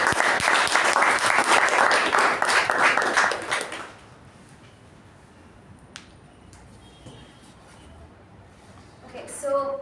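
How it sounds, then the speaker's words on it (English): Audience applause at a Toastmasters meeting, a dense burst of clapping lasting about four seconds, then dying away into quiet room noise with a faint snap and a brief shuffle near the end. "let's have a huge round of applause for"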